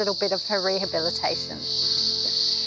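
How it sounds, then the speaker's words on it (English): Cicadas in the Australian bush give a piercing, steady high buzz that runs through the whole stretch, loud and unbroken, while someone talks over the first half. "All I'm hearing is the piercing sound of cicadas"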